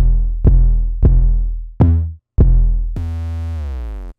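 Two stacked 808 bass sounds playing an E-note pattern, four deep booming hits with decaying tails followed by a longer sustained, buzzier bass note, loud and alone.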